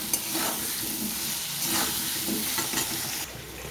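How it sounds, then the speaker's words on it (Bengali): Potatoes with turmeric and salt fry and get stirred in a pan, a steady close sizzle with a few soft scraping stirs layered over it, easing off slightly near the end. "ঢাকা চাপা দিয়ে আমি ভালো করে নেড়ে চেড়ে একটু ভেজে নিলাম"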